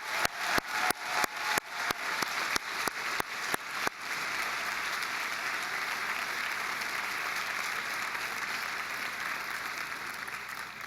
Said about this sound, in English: Please join me in a round of applause for all of these standing graduates.